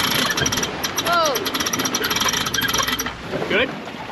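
A winch strap ratchets in rapid clicking bursts while a boat is pulled from the water at a remote Australian beach, close and busy, with people talking and a sharp exclamation over it.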